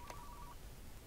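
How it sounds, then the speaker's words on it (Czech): A brief electronic telephone ring sounds in the Car Mechanic Simulator 2015 game, a short tone at the start that fades out, leaving a quiet hum. "a už zvoní další telefon, další nabídka"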